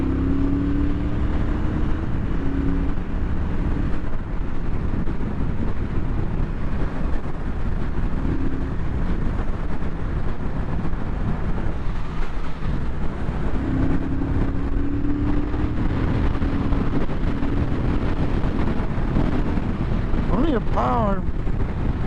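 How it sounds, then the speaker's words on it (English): A 2017 Triumph Thruxton R's 1200cc parallel-twin engine drones steadily while riding, buffeted by wind noise, with a rider talking over it. "It's a big engine. I mean, 1200cc parallel twin with loads of torque."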